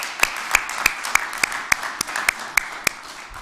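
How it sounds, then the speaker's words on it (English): Applause for Mr. Hilliard at a mayor's press conference, carried by evenly spaced sharp hand claps from one close clapper over a soft wash of clapping from the room. "Let's give him another round of applause."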